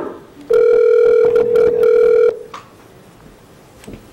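A conference phone at a town selectmen meeting sounds a loud, close electronic tone in a few short steady bursts lasting about two seconds, followed by quiet room noise.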